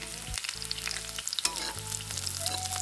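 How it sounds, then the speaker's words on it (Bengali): Sliced onions and green chillies sizzle in hot oil in a home kitchen, a constant close crackling fry with occasional stirring scrapes and a faint background hum. "এইফালে তেল গৰম হৈ গ'ল এতিয়া দি দিম পিঁয়াজ দি দিছোঁ জলকীয়া"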